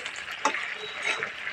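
Bengali fish curry with vegetables sizzles in a pan as it is stirred, a steady close frying hiss with a brief scrape of the spoon, quiet and without talk.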